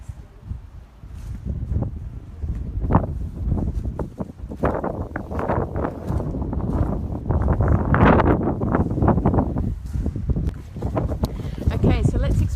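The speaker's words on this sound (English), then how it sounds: "I'll try and get out of the wind because that's very noisy" Gusty wind buffets a microphone at the Rock of Cashel, an exposed hilltop fortress site, producing loud, low, rumbling blasts that come and go throughout, with a voice speaking close by.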